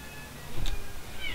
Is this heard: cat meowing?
yes